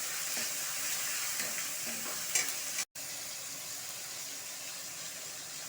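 Chopped tomatoes with salt sizzle in a frying pan in a steady, close hiss, broken by a brief utensil clatter and a short drop to silence before the frying carries on.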